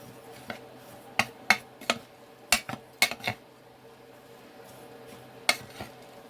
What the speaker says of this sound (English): Let's put it in the crumble. Let's mix it all in together.